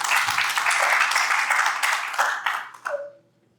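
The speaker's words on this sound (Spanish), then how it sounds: "un aplauso a Bañados también, por favor" Applause from a class audience at a church teaching session, a broad burst of clapping that stays full for about two seconds, then thins and fades out as a few last claps and a brief tone trail away.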